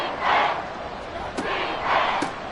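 Stadium crowd in the video game Madden roaring on a third-and-seven play, a broad swelling cheer that rises twice, with a few sharp accents inside the steady wash of noise.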